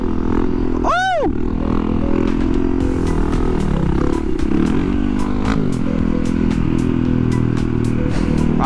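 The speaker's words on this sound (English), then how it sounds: "I love me some bridge wheelies." Motorcycle popping a wheelie on a bridge, its engine droning loudly and steadily throughout, with one sharp rising-falling whine early on and faint clattery ticks scattered over the continuous roar.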